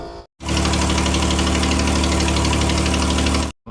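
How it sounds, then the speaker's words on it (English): A loud, steady Ford Escape engine idles with a rough, rapid ticking pulse, the raspy chuffing of an exhaust leak at the manifold gasket, running continuously with no talking. "As you hear, terrible exhaust leak."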